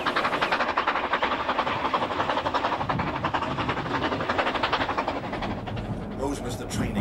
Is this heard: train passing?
yes